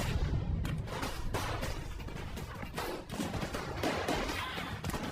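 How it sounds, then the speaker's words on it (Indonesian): Dense, sustained gunfire from an action-movie shootout, a continuous barrage of overlapping shots and bursts with no break, loud and close throughout. "Namun Alfonso yang tidak percaya itu, ia pun langsung membunuh Harry sehingga terjadilah baku tembak."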